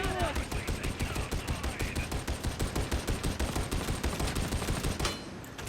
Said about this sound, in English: You fill the air with enough bullets, eventually some of them will hit.